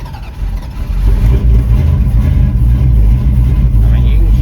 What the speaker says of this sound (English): I'm like just patting the throttle real quick